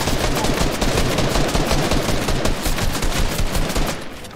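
Dense, rapid gunfire crackles continuously in a video game, loud and close, like sustained automatic shots, easing slightly at the very end.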